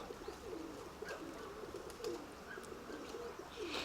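Soft, repeated pigeon coos at a moderate distance, a few low throaty calls over quiet outdoor background noise.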